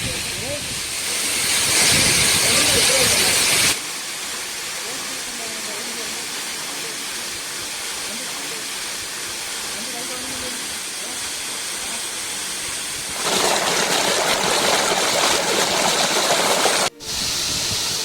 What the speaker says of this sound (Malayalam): ഇത് മനോഹരമായ കാഴ്ചയിലൊന്നാണ് ഈ വെള്ളച്ചാട്ടം